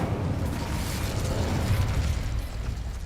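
An Incendio fire spell cast in the Hogwarts Legacy video game, a dense, loud, steady roaring rush that fills the whole moment without letting up.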